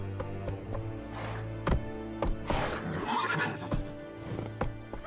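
Roach the horse in The Witcher 3 whinnies over steady clip-clop hoofbeats and soft game ambience, the neigh rising briefly in the middle of the trotting.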